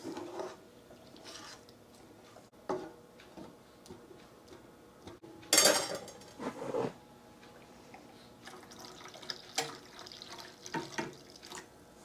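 Milk poured into a pan of sausage gravy and stirred in, a faint liquid splash and trickle followed by soft spoon scraping and light ticking, close and quiet.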